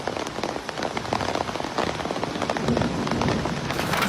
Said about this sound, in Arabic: امطار غزيرة مصحوبة بزخات من البرد